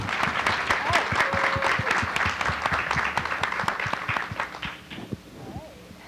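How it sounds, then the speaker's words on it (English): A crowd at a Women's History Month celebration at Rutgers Newark applauds its panelists with loud, close, vigorous clapping that tapers off in the final second. "give a round of applause for our panelists today."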